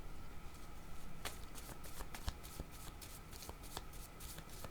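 Cards being shuffled for a card reading, a steady papery riffle with sharp flicks and snaps repeating throughout, close and fairly quiet, with no talk.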